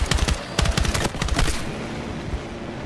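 Rapid bursts of automatic gunfire from a video game crackle in quick succession for about a second and a half, then give way to quieter background game noise.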